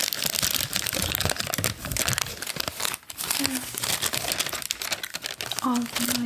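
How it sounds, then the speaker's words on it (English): Paper receipts from Christmas and grocery shopping are handled and crinkled up close, with steady rustling and crackling throughout, while a soft voice talks over it. "These are all my receipts from Christmas shopping."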